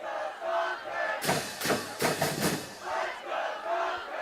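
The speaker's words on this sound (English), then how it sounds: "the crowd's making some noise" A crowd at a high school football game between Concord High School and Bishop Guertin roars and chants in rhythmic surges, loud and full, with several bursts of shouting and cheering rising and falling.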